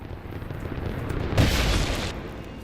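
A boom-like explosion goes off in the action game Rise of the Tomb Raider, a single broad blast that swells at mid-clip and fades over about a second beneath a low, steady game rumble.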